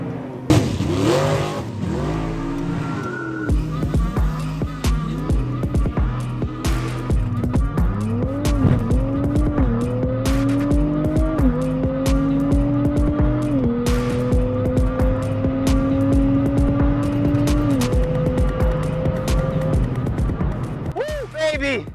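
A turbocharged Nissan Z launches on boost with launch control, tires squealing as the engine wails up through successive gear shifts, each rising pitch sweep loud and close, with a voice talking over it.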